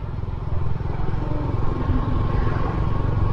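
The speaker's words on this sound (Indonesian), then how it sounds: "kalau sekarang muterin naik motor" A motorcycle rides around town at night in Wonogiri, its engine a loud, close, steady drone with a pulsing low throb and road noise, continuous for the whole stretch without talk.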